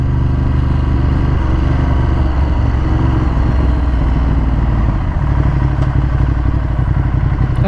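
A 2015 Ducati Monster 1200S with Öhlins suspension is ridden, its engine a loud, continuous low rumble close to the microphone with a slight shift in pitch partway through.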